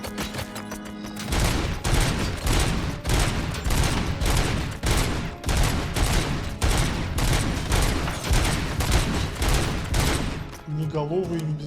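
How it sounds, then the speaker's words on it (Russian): Rapid bursts of gunfire from enemy robots in the shooter game RoboCop: Rogue City, loud and sustained in dense repeated volleys for about nine seconds before stopping abruptly. "Сейчас один только вот начал стрелять."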